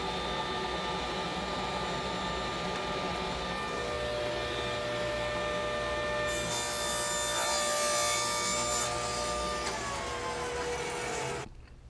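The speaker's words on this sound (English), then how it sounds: "Next, we're going to raise the blade and cut the drop panel." A table saw with a miter sled cuts through a wood drop panel, a steady whirring blade noise with a brighter, harsher cutting stretch in the middle before it suddenly stops.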